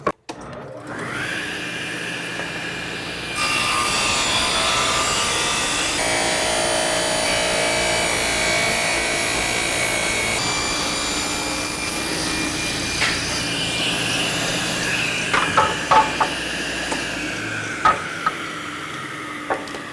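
A saw cuts through a wooden workpiece held against the fence by a featherboard: a loud, steady whirring roar runs for about twelve seconds, then winds down amid a few knocks and clatters.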